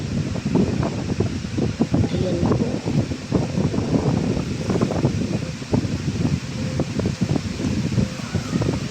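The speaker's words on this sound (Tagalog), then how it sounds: "Malakas na dito yung hangin tsaka yung ulan." Strong wind and rain buffet the microphone in a constant low roar, with a dense rushing texture of heavy rain, while a voice briefly speaks.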